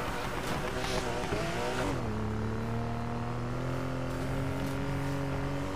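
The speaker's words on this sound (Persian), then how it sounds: "باورم نمیشه ماشین فقط میخواد دیریفت کنه." A sports car drifts in Need for Speed, its engine note sliding and then holding a steady high drone, with tire hiss beneath and no talking, loud and close throughout.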